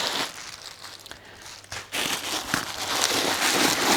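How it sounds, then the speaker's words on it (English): Plastic packaging crinkles and rustles as it is pulled from a designer bag, a close, continuous crackling with a brief lull midway before louder crunching handling resumes. "rustling noise while I remove the packaging"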